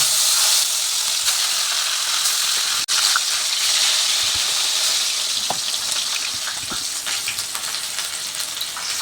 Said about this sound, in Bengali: তেলটা গরম হয়ে গেছে এবার মাছের মাথাটা ভেজে নিচ্ছি